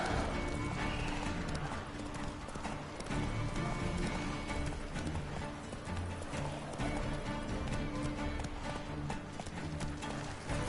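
Roach, the horse in The Witcher 3, galloping: a continuous, loud drumming of hooves with a steady rhythm, heavy and close throughout.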